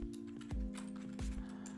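Fingers tap a few scattered keys on a computer keyboard, soft, sparse clicks close by over a low electrical hum.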